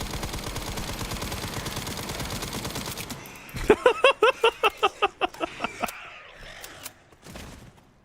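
Old-style SMG firing in the survival-horror game Resident Evil Requiem: a rapid burst of about ten sharp, evenly spaced shots rings out loud and close after a dense stretch of noisy game audio, then fades into quieter ambience.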